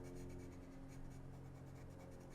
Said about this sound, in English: I really like how the pencil sounds against the paper.